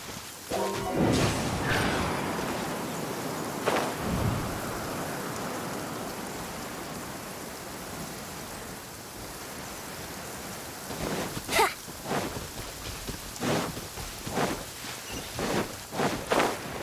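Rain falls steadily in the Genshin Impact video game world, a broad continuous hiss with sharp cracking thunder-like bursts near the start and again toward the end, no talking.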